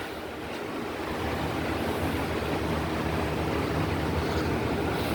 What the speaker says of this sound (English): Blew it off with an air blower and cooled it down.